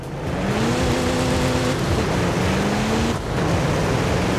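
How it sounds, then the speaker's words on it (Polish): A modified diesel car's engine in the Forza racing video game drones steadily, its pitch climbing and shifting over several seconds, with a brief dip in the sound just past the three-second mark. "O, co to, diesel?"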